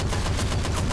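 Rapid, evenly spaced gunfire bursts from the video game Left 4 Dead 2, loud and continuous through the whole second.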